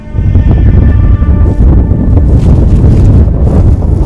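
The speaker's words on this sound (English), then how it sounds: "Wind gusts up to who knows what they were, 100, 120 kilometers an hour" Strong wind gusting up to 100–120 km/h in the wilderness buffets the microphone in loud, continuous rushing gusts, with a roaring low rumble and no let-up.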